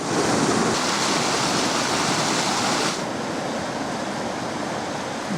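Fast-flowing river water rushing under a bridge at Horton, a loud, broad, continuous roar heard close, dropping slightly in level partway through.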